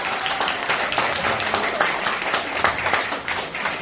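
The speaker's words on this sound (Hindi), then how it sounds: "तो गुप्ता सर के लिए भी जोरदार तालियां हो जाए" Steady, dense applause from an audience at a business opportunity event in Meerut, cheering a host and the stage anchors, with scattered claps standing out in a continuous wash of sound.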